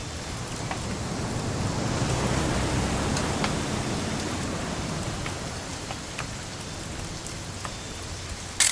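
Rain in What Remains of Edith Finch falls as a continuous, wash-like hiss with scattered individual drops ticking on surfaces, swelling slightly then holding steady, with a brief knock at the very end.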